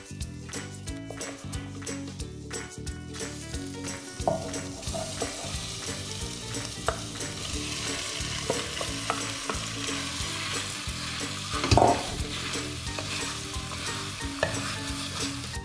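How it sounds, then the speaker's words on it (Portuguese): Meat sizzles and fries steadily in a hot pan, with stirring and scraping clatter throughout, fairly close and continuous. "a gente vai refogar essa carne."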